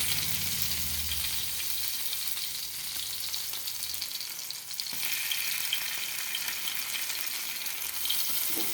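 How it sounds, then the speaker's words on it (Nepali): Garlic and ginger frying in hot oil in a kadai, a loud continuous crackling sizzle that stays dense and steady throughout. "सुरुमा चाहिँ लसुन मजाले फुलाउनु गाइज"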